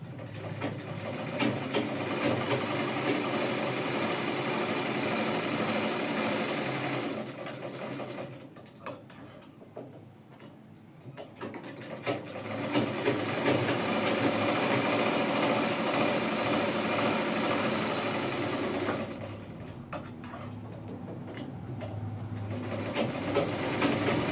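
Sewing machine running straight stitches in long steady whirring bursts, with two short pauses before it resumes, close and fairly loud, with no talk.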